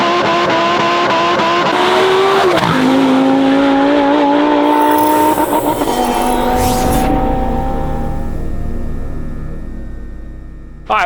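A Lamborghini Huracan STO with a titanium exhaust and valve control revs hard and loud, its engine note climbing in sweeping rising pitches before easing down as the car pulls away.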